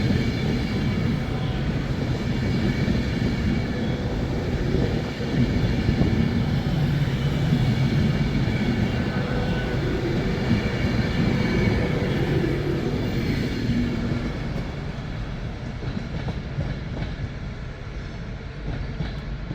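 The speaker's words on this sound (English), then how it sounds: "city of London Pendolino on its way down to," A Pendolino passenger train passes through Crewe station, a loud sustained rumble and whine of the train rolling by at close range that fades slightly toward the end.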